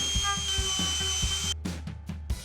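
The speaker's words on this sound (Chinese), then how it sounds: "外面的形状需要用到打磨的机器打磨边缘" An electric sanding machine grinds the edges of 5 mm and 10 mm EVA foam board for a costume armour build. A steady high whine with a low pulsing hum breaks into choppy grinding bursts near the end.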